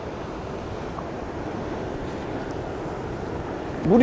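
Ocean waves surge at a rocky fishing ledge near Sydney, a steady wash of surf and wind noise that swells louder as a wave arrives at the end.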